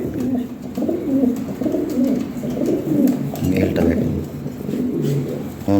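Lahori Sirazi pigeons coo in repeated low, rolling phrases, close and fairly loud, with a person talking over them.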